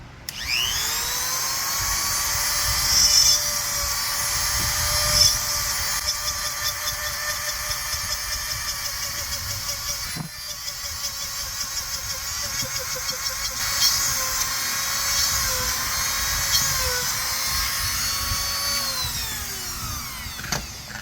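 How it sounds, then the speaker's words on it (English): A power drill drilling holes in reclaimed wood whines in two long, steady runs with a brief pause between, its high-pitched motor hum sounding close and fairly loud. "So now I'm just going to go and I'm going to drill the holes."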